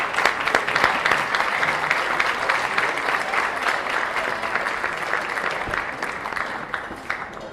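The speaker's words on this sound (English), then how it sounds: "While we give a round of applause to all of our nominees" An audience at a business excellence awards ceremony applauds the nominees with sustained, dense clapping that stays loud and even throughout, and no clear speech comes through.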